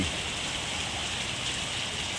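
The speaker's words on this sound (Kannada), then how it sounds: "ಬಹಳ ಜೋರಾದ ಮಳೆ" Intense first rain of the year pours down in Sidlaghatta, an unbroken roaring wash of raindrops striking the ground, near and constant, with no talking.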